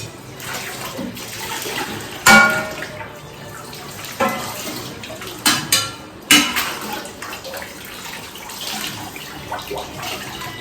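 Tap water runs steadily while things are washed at a sink, with a few sharper knocks and splashes of handled items over the continuous flow; no one speaks.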